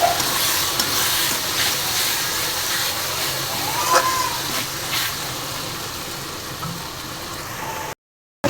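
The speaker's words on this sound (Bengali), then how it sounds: "এটাকে ভালো করে কষিয়ে নিই।" Soybean chunks with turmeric sauté in a pan, giving a steady close sizzle with occasional stirring scrapes and a brief clink, continuous until an abrupt cut near the end, with no talking.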